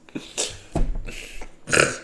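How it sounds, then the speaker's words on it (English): A series of loud, close burps from a person, several rough bursts in quick succession with short gaps between them. "I don't understand the burping fascination."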